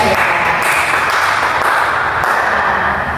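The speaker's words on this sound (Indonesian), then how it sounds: "Ya boleh tepuk tangan dulu ya." A classroom of students claps together during an Indonesian lesson on news text structure, a dense, steady wash of applause that stays loud and even throughout.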